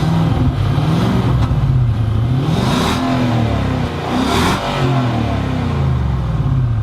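A 2015 Infiniti QX80's 5.6 liter V8 works loudly off-road on a steep hill, its engine note rising and falling through several revving surges.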